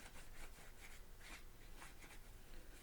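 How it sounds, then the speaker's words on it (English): A plastic glue bottle tip rubs over wet glue on a craft wristband, making quiet, repeated scraping strokes in a soft, steady rhythm with no talking. "I go back over the glue that I put on there and I rub it with the tip of the glue bottle"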